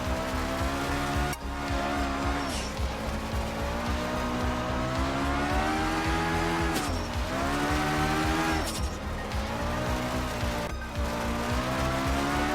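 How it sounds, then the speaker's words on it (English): A car in a racing game held in a slow drift with the power kept down, a steady droning engine note with tire squeal and occasional shifts in pitch running throughout. "That was a slow drift, but I managed to keep the power down to some extent."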